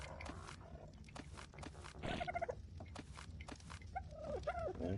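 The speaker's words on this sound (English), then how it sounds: "Happy hens this morning." Soft, close clucking and brief vocal calls from a few hens in the morning over a low background rumble, with some scattered taps and movement.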